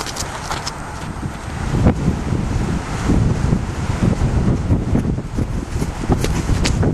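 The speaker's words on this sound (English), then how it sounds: "Now the wind's going to be blowing a little bit here" Wind blowing outdoors during groundwork with a five-year-old Friesian gelding in Colorado, a steady loud roar buffeting the microphone and swelling in gusts, with no voices heard.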